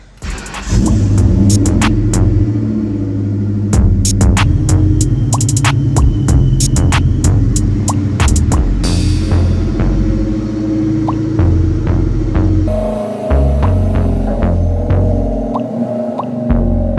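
Ford Mustang engine starting up and settling into a loud, steady throbbing idle, with a rumbling hum running close and continuous and no talking over it.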